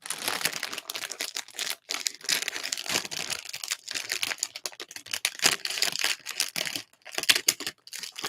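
A plastic bag of Lego parts for a Porsche 911 GT3 model is snipped and pulled open, giving steady close crinkling and rustling with sharp crackles throughout, and no talking.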